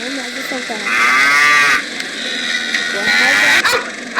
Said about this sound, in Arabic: وهذه بقرة.